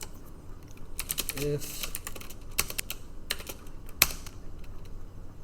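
Code is typed on a computer keyboard in quick, irregular bursts of close key clicks, with one sharper keystroke standing out, and a voice speaks briefly over the typing.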